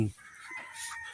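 A rooster crows across most of the short clip, a bright strained call after a brief low thump at the start.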